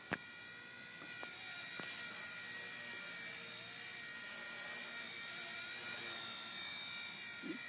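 A helicopter hovers nearby in a demonstration flight, a steady high-pitched whine and buzzing rotor drone holding level for several seconds, with a couple of short clicks near the start.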